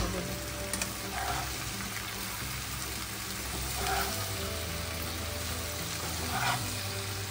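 Colourful vegetables for homemade sambar dal fry in oil in a pan, a steady, fairly faint sizzle that runs throughout with occasional soft stirring noises and no talking.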